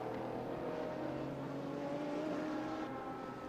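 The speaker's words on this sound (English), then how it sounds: "There goes the chevron." A Chevron prototype race car passes on the Sonoma circuit during a prototype racing event, its engine a steady, fairly loud harmonic drone with a slight rise and fall in pitch over a low continuous rumble.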